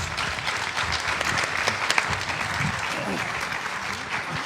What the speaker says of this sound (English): please give our candidates all a round of applause